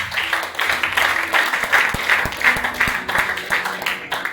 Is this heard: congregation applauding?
yes